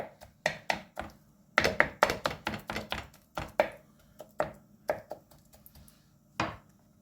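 A knife chops vegetables steadily on a cutting board, sharp irregular thunks in quick bursts with short pauses, close and clear with no talking.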